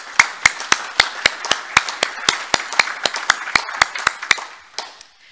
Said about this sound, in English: So I'd like to give her a little round of applause,